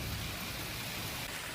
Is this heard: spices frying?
no